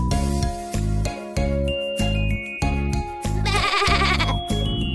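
Cartoon sheep bleats sound over a bouncy nursery-rhyme tune for Baa Baa Black Sheep, with jingling bell-like tones and a rhythmic plucked beat, all fairly loud and upfront.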